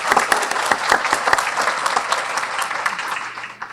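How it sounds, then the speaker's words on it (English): A small group at a luncheon claps steadily for a few seconds, a dense patter of hands that gradually thins out. "So maybe just a quick round of applause for Supervisor Gallardo."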